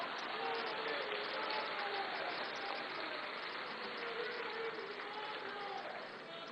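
A standing audience applauds at a farmers' mass rally in Raisen, a dense, steady wash of clapping and crowd noise holding loud and even throughout, with no clear pauses.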